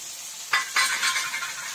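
Chopped onions dropped into hot oil after tempering spices including cinnamon: two quick bursts of sizzling around the moment they hit the pan, then a softer, steady crackle and hiss, close by, no talk.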